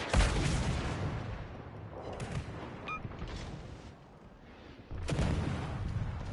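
Heavy booming naval gun salvos from warships in World of Warships Legends, a loud broadband blast at the start and another near the end, with rumbling battle noise between.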